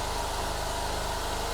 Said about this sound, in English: So we're on the first test of our generator.